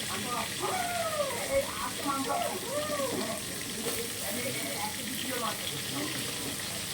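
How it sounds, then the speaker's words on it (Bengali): Magur catfish fry in a hot kadai with a faint, steady sizzle while a person talks over it. "এবার তো কড়াইটা অলরেডি ভালোভাবে গরম করে নিতে হবে, তাহলে কিন্তু মাছটা দ্রুত ভাজা হয়ে যাবে"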